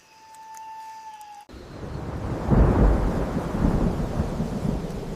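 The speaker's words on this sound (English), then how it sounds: "the first rain begins to fall" First rain sweeping into a lowland Madagascar rainforest, a steady broadband hiss that swells after a faint tonal hum gives way, with a low rumble of distant thunder rolling underneath.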